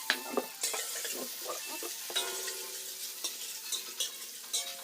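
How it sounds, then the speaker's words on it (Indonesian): Onions sizzle steadily in a hot pan while a utensil scrapes and stirs them in repeated strokes, close up, with no talking. "Kita goreng sampai baunya harum cuy."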